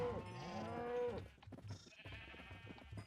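Sheep bleat in Minecraft, penned in a stone basement area, several wavering bleats close by over low background game sounds.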